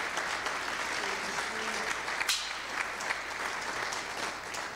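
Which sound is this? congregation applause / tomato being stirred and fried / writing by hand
congregation applause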